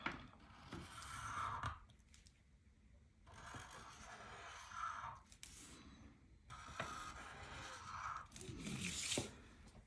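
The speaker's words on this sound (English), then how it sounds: "I want to try to cut one out" Scissors snip through a strip of washi tape for junk journal ephemera, giving several bursts of crisp cutting and rustling paper-tape crunches separated by short quiet gaps, close and fairly soft, with no talking.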